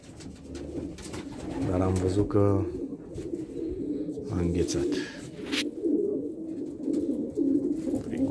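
Pigeons give repeated low, throaty coos close by in a cold winter setting, several bursts spread through the moment while someone talks over them.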